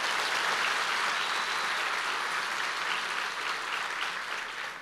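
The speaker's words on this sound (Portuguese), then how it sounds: "Pode dar uma salva de palmas a Jesus" A church congregation applauds for Jesus during a sermon, a steady dense clapping that stays loud throughout and tapers slightly at the end.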